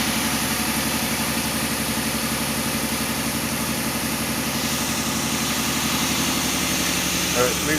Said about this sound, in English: You hear the Magnum just out here idling,